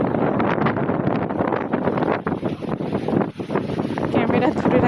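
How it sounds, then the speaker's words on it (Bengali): Strong stormy wind on a rooftop about a kilometre from a river during a storm, a loud continuous roar buffeting the microphone with brief dips in intensity, and a person talking under it. "আর কিরকম ঝড়ো হাওয়া হচ্ছে দেখো"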